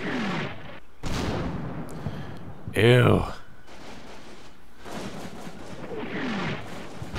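Video game battlefield gunfire, repeated bursts and booming artillery-like blasts, one loud explosion in the middle, with a player talking over the din.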